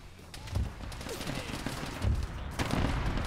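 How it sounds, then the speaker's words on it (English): Scattered enemy gunfire crackles in a Warhammer battle, several sharp shots and bursts spread irregularly over a noisy, rumbling background, moderately loud and at mid distance. "They started shooting at me."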